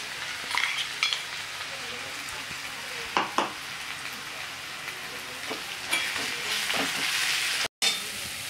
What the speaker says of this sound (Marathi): आता आपण मिक्सरला जे वाटून घेतलं होतं ते वाटण घालणार